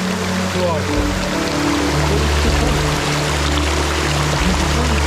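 Steady, loud rushing of river water pouring over a small waterfall beneath an old arched stone bridge, continuous, with a low rumble underneath.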